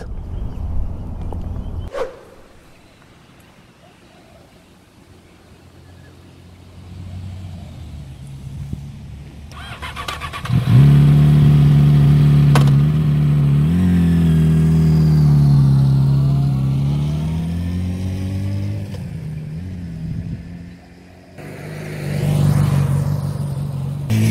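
A Yamaha YZF R6 sport bike on a Singapore road: quiet, muffled background at first, then the engine swells up loudly and holds a droning rev that dips before rising again near the end.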